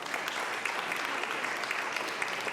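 An audience at a school board of education meeting applauds the district's counselors, a dense, even patter of many hands clapping throughout at a moderate, distant level.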